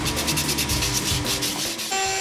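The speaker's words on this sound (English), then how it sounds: "And then there was just a lot of hand sanding." Wood being sanded by hand, a close, loud rhythmic scratchy rubbing of quick back-and-forth strokes that fills the clip, with no talking.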